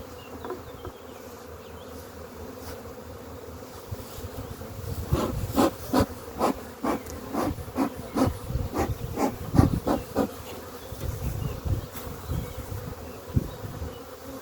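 Honey bees buzz steadily around an opened hive while frames are lifted out to start an artificial swarm, with a dense insect drone throughout and louder wooden knocks and scrapes coming in bursts through the middle.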